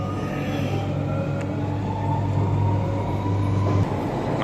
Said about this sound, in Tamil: 6:40க்கு நம்ம ட்ரெயின் சென்ட்ரல்லேருந்து கிளம்புது.